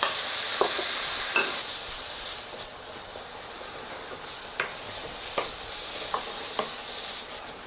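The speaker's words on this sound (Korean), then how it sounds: "고기가 지금 익고 있거든요." Meat stir-frying in a pan for japchae, the Korean glass-noodle dish, gives a steady, close sizzling hiss broken by a handful of sharp utensil taps and scrapes at irregular intervals, with no talking.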